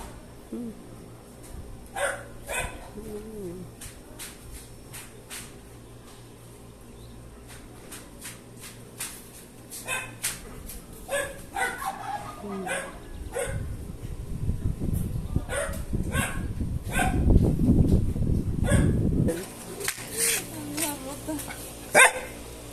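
A small dog, a shih tzu, barks in sharp scattered yaps and yips across the recording, with people talking nearby and some rustling and handling noise in between.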